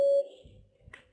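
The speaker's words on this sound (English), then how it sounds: "Please prepare your answer after the beep." A single sharp electronic beep sounds clearly at the start, then cuts off, leaving quiet room noise and a faint rustle.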